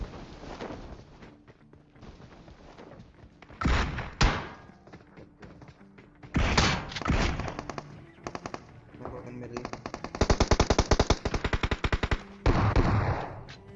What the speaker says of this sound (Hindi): यहाँ पर एक स्क्वाड के साथ हमारी गन फाइट होती भी है